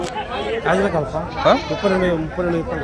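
Young rams bleat repeatedly at a busy village livestock market, the calls close and overlapping, with people chattering in the background.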